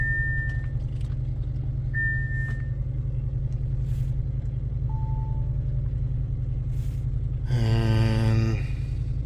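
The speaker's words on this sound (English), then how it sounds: "I'm gonna crank the car to measure the oil." A 2017 Audi RS7 runs with a steady low rumble, broken by a few short dashboard chimes. Near the end comes a louder, buzzing burst as the engine is cranked.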